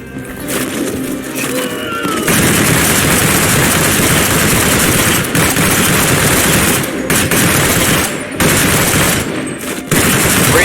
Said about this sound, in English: especially when you're firing full auto like this